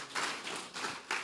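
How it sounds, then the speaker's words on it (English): Audience applause at a legal seminar, a broad, steady wash of clapping that swells in a few bursts over a little over a second, with no voices over it. "Another round of applause, please."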